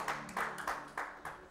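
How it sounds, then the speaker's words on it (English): A church congregation clapping hands in a rhythmic beat, about five distinct claps spaced evenly, faint and somewhat distant. "give the Lord a hand clap"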